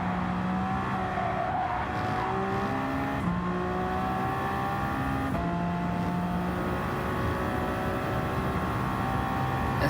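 Toyota GR010 Hybrid hypercar racing at Le Mans in Gran Turismo 7, a loud continuous engine whine rising in pitch through gears with several quick shift drops, over constant road and wind noise.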